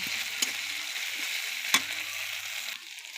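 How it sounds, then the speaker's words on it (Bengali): Ginger, cumin and crushed garlic paste sizzles steadily in hot oil in a pan, a continuous close frying hiss with a couple of soft stirring clicks and no talk. "তারপরে দিয়ে দিব রসুন থেতা করে একটু তেলের সাথে কষায় নেব"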